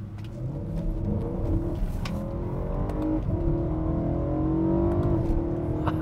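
A 2013 BMW M3 with its naturally aspirated V8 in manual mode accelerates hard, engine note climbing in pitch through the gears with a brief shift break, loud and close with no talking.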